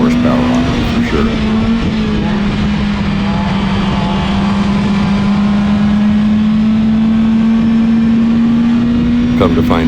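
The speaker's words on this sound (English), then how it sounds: "that little Neon's got some horsepower on it for sure" A Potter-built Neon race car engine roars loud and steady at Willamette Speedway, holding a sustained, slowly rising engine tone for the whole stretch with crowd and track noise underneath.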